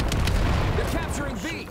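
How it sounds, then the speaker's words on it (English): A grenade goes off in Battalion 1944 capture-the-flag play, a deep low boom with a rumbling tail heard up close, while a player's voice talks over the fading blast. "Here's a grenade for you, brother."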